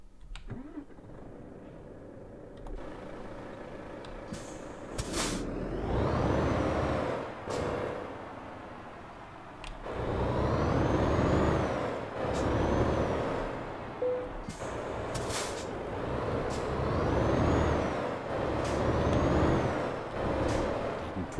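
A Volvo FH Sleeper truck with a turbo engine in Euro Truck Simulator 2 starts and revs, the engine swelling and falling in long loud surges, punctuated by sharp air-brake hisses, with no talking.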